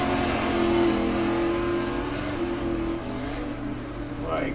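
A rallycross race car engine in iRacing revs hard and holds a steady, buzzing drone near the limiter, dipping slightly before climbing again at the end.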